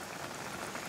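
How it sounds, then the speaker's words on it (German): Heavy rain pours steadily on an alpine pasture, a dense, even hiss of drops filling the scene at close range with no other sounds. "Der Regen wird unterdessen immer stärker."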